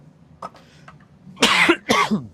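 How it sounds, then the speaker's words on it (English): Two harsh coughs close to the microphone, following a few soft breaths and small mouth sounds. "And I'm gonna cough."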